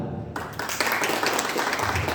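A training-session audience in a classroom or hall claps hands, a lively burst of mixed clapping that starts sharply after a short quiet moment and continues unevenly for about two seconds.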